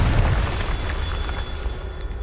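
Blasting Confringo spell detonations in the game Hogwarts Legacy, a dense low rumbling burst that rolls on loud and unbroken, with no talking over it.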